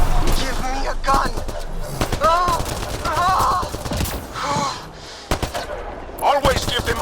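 Rapid bursts of gunfire from the video game Mass Effect Andromeda, sharp, loud shots in clusters interleaved with game character voices talking.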